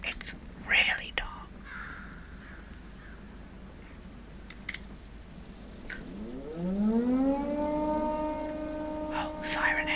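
Siren Head's siren in a dark horror video game rises as a long wailing tone that swells and holds near the end, with a player's quiet, whispery talk heard earlier.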